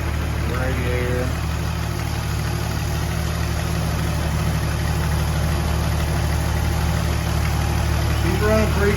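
Car engine idling steadily right after an engine and transmission installation in a barn, a continuous low rumble with brief voice-like tones at the start and end.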